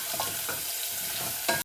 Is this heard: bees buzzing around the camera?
no